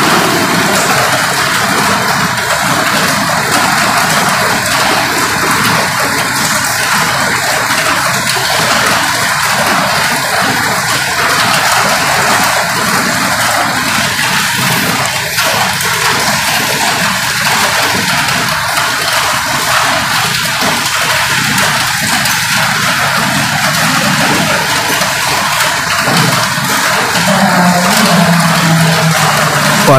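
Heavy rain pours down in a dense, steady hiss that runs without a break, loud and close, with a low rumble underneath.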